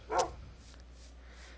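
A short dog bark in the video game Life in the Woods: one bright yelp near the start, then quiet background.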